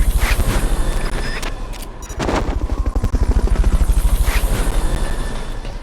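Helicopter hovering during a Fulton recovery in the Metal Gear Solid video game, a loud, close rotor chop beating rapidly and steadily with a short swoosh partway through.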